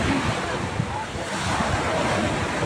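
Steady wind on a ride in Casiguran roars and buffets the microphone, loud and constant, with a wash like surf underneath.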